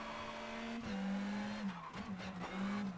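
Engine of a Ford Puma rally car on gravel suspension racing on asphalt in WRC Generations, a steady high rev drone that dips briefly with gear shifts and lifts, with faint tire scrubbing, loud and close with no talk.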